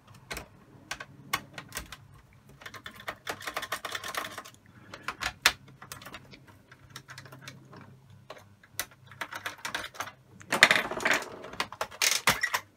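Small Torx T8 screws being worked loose from a PS4 Slim console casing, giving sparse, close, dry clicks and taps with a few louder clattering bursts near the end, no voices.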